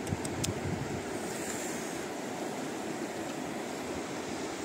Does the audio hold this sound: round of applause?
no